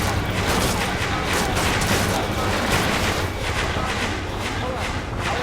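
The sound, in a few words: missile launch and explosions in Ace Combat 7 video game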